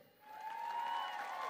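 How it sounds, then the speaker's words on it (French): A concert crowd at the Nescafé Star event at To'ata breaks into applause. The clapping swells quickly into a dense, distant wash, and a sustained tone runs underneath. "On les applaudit s'il vous plaît."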